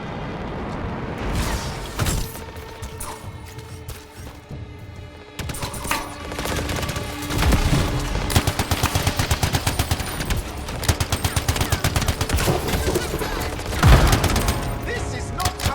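Enemy gunfire in the shooter game Anthem, dense rapid automatic bursts and scattered booms building into sustained loud volleys, with occasional shouted voices mixed in.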